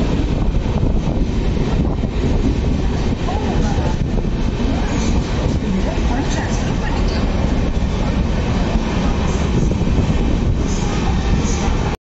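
Cholan Express, the Chennai to Thanjavur train, running at speed, with a steady loud rumble and rattle of the carriages and wind buffeting the microphone throughout.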